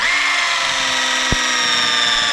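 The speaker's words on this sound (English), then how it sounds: "This drill's 10 years old" A ten-year-old Black & Decker cordless drill drives heavy-gauge screws at an off-grid cabin, its loud, close, steady whine holding for about two seconds, broken by a single sharp knock partway through.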